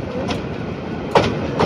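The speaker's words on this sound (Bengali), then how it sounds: "এই মুহূর্তে আমরা প্রবেশ করতেছি কুলিয়ারচর রেলওয়ে স্টেশনে" The Egarosindur Provati Express train rolls into Kuliarchar railway station in Bangladesh, heard from on board as a steady rumble with a couple of sharp rail clicks near the end.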